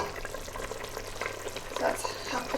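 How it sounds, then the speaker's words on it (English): Chicken in a spice blend cooking in a pot for haleem, with a steady busy sizzle and bubbling that runs throughout, close and fairly loud. "That's happily bubbling away."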